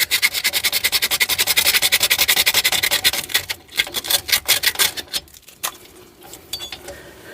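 Rust being scraped off Volvo 740 brake parts, rapid rhythmic rasping strokes up close that slow into slower, uneven scrapes.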